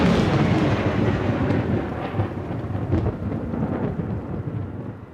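A thunderstorm rolls on with deep rumbling thunder over a dense wash of steady rain, loud and close, the rumble easing slightly toward the end, with no voices.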